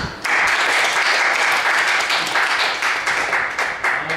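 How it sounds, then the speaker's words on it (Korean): A church congregation in a service breaks into loud, sustained applause, a dense wash of many hands clapping that starts abruptly and holds steady throughout. "한번 영광의 박수 한번 드리겠습니다"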